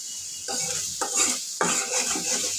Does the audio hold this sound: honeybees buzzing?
no